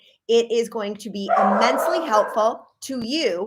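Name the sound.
dog barking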